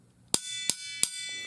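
Water heater expansion tank knocked three times in an even rhythm, each sharp close metallic rap leaving a bright ringing tone that lingers between hits in a quiet room.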